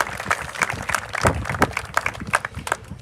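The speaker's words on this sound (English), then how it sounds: "So give John a round of applause." Audience applause at a middle school groundbreaking ceremony: dense clapping from a modest crowd, steady and moderately loud, with a few sharper individual claps standing out.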